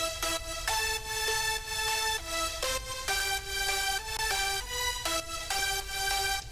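Thick, buzzy layered future bass synth leads play a bright melody in a steady rhythm, each note rich and loud, with no voices over it.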